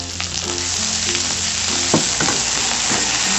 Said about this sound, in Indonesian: masukkan kunyit, bawang putih, jahe, dan lengkuasnya ya teman-teman. Tumis sampai harum.